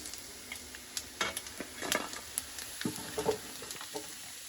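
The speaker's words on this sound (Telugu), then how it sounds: "చూసారా, చికెన్ బాగా ఫ్రై అయ్యి ఇక్కడ నురగలు అయితే వస్తున్నాయి." Chicken frying in foaming oil gives a soft, close sizzle with scattered pops and stirring scrapes; the sound is fairly quiet and no one speaks.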